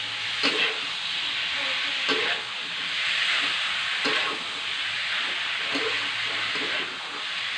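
Beef coated in sate maranggi marinade sizzles and fries steadily in a pan, with a constant broad hiss and occasional louder spits and stirring scrapes, close and alone without talk.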